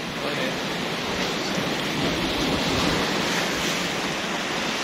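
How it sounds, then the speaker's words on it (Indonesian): Waves break on Tanjung Buloh beach in Kota Tinggi, Malaysia, making a steady, full hissing surf that stays even and fairly loud throughout, with no voices. "sambil menikmati desiran ombaknya di pantai ini"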